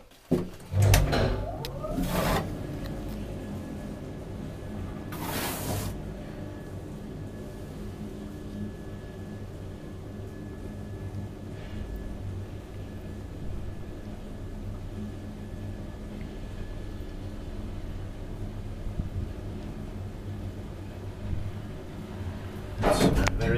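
An old Kone traction elevator in a Helsinki apartment building runs during a ride, giving a low, steady hum with faint rumble, framed by a few sharp clunks and door or mechanism thumps near the start and end.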